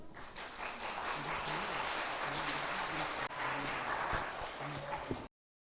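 Audience applause welcoming two young performers from a youth centre onstage at the opening ceremony of summer Quran courses in Turkey; steady, dense clapping from a large crowd fills the whole stretch, then stops abruptly.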